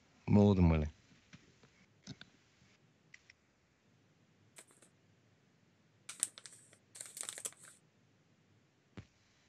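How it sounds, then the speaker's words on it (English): Keyboard typing picked up over a voice chat, with loud clusters of clicking keys in short bursts after a brief stretch of talk, otherwise fairly quiet. "That sounds like Riley's keyboard"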